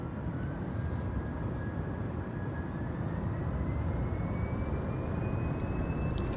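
A steady, dense aircraft engine drone at idle in Microsoft Flight Simulator, with a constant broadband rumble and a faint high tone rising slowly throughout.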